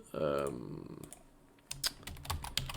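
A computer keyboard is typed on in a short burst of quick, close keystroke clicks, following a brief voice at the start.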